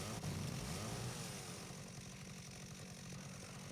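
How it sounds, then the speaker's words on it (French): Mini chainsaw weapon in the video game Dead Rising Deluxe Remaster, a droning buzzy engine whine running steadily throughout, fairly quiet, with a rougher louder burst at the start. "J'aime ces mini tronçonneuses"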